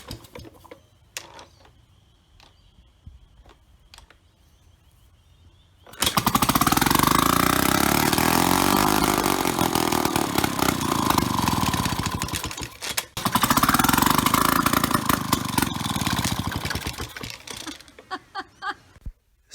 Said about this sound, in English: So the engine would start and run, but the original carburetor was just too badly worn.